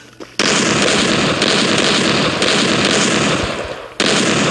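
A 12-gauge shotgun in the mobile game Free Fire fires loud, close shots. A sharp first blast opens a long rushing roar that holds for several seconds, then another blast comes near the end.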